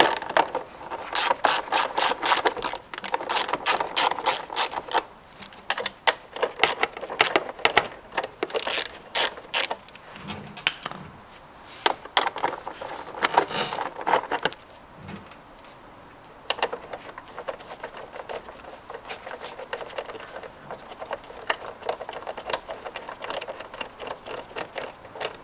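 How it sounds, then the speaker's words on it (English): A ratchet with a 10mm socket removes bolts on a Kawasaki Ninja 300. Rapid ratcheting clicks come in close bursts, broken by pauses and quieter rubbing and handling sounds. "we're going to remove this bolt here and this bolt right here using your 10mm"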